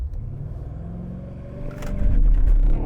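A BMW X6M SUV pulls away from a standstill up a hill, its deep engine rumble climbing in loudness as it struggles briefly for traction, then swelling into a strong, close roar.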